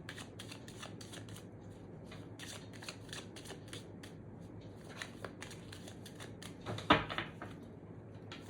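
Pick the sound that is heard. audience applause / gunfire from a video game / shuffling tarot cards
shuffling tarot cards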